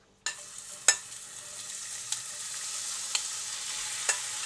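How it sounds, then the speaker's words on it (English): A Moroccan taktouka mixture of peppers fries in oil, sizzling suddenly when it hits the pan and then crackling steadily, with a few sharp stirring clicks at intervals, close and alone. "So now we have this lovely mixture and we're going to fry it."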